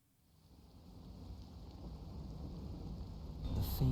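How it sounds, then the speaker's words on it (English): Steady rain in the video game Master Detective Archives: Rain Code Plus, a soft, continuous patter that slowly grows louder, with a sharper burst of noise at the very end. "The faint sound of a ticking clock melts against the sound of rain."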